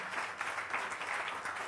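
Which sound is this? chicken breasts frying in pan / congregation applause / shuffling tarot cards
congregation applause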